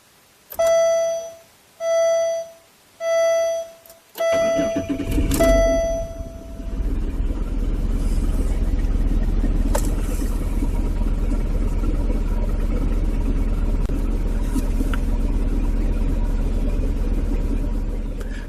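A car engine idles during an exhaust backpressure test, a steady low rumble running close and continuous after four short electronic beeps.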